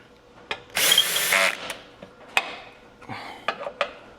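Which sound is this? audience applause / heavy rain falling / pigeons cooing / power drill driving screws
power drill driving screws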